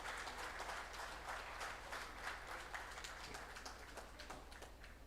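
Delegates at the STPI foundation day tech summit applaud in a formal hall. The clapping is soft and distant, a steady dense patter with no talk over it.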